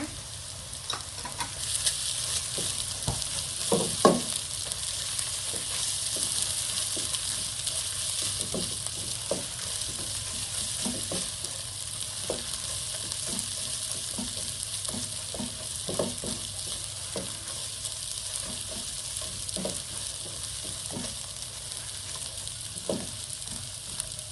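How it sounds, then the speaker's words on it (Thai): Garlic, coriander root and pepper paste stir-fried with browning shallots in a pan, a steady bright sizzle running throughout with repeated scraping taps of a spatula stirring against the metal, close and fairly loud, no voices. "ให้ใส่สามเกลือลงไปผัด ให้หอมเลยนะคะ"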